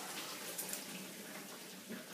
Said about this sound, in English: Strain the pasta